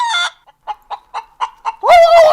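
A man imitates a rooster with his voice: a squawking burst, then a run of five short rhythmic clucks, ending in a loud, drawn-out strained crow, close and alone with no other talk.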